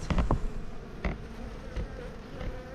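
Bees buzz steadily and close by in a dense droning hum, with occasional louder passes and soft taps.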